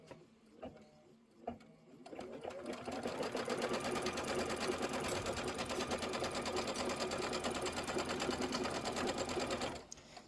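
An embroidery machine stitches an outer quilt border strip in the hoop for a Kimberbell Candy Corn Quilt Shoppe project. A few soft handling taps come first, then a loud, steady mechanical needle whir runs unbroken for about eight seconds before stopping abruptly.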